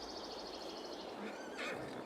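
A horse in Farming Simulator 22 lets out a faint, quivering whinny, followed by a brief second neigh, set against a soft ambient background.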